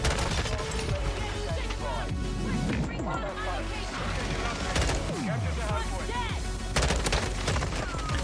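M16 burst fire in the video game Modern Warfare 2: loud, rapid gunfire bursts repeat throughout, dense with explosions and other battle effects layered close together.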